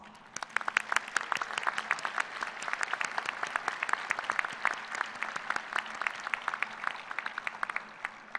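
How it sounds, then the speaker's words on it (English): Graduates at a Kansas State University fall graduate school commencement break into a loud, sustained round of applause, dense clapping filling the hall from start to finish. "please acknowledge those who have supported you in your pursuit and completion of your degree today by a loud round of applause"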